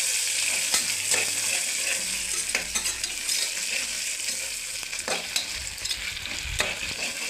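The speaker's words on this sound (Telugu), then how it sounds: "పుదీనాను కూడా బాగా వేయించుకోవాలి" Mint leaves fry in a pan for tomato biryani, turned with a spoon through a continuous sizzle. Repeated scraping and clinking strokes come close up with no talking.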